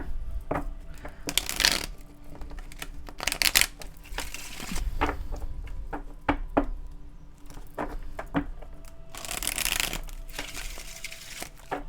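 Tarot cards are shuffled in several brisk riffling bursts, with soft handling and tapping sounds between them, close and fairly quiet.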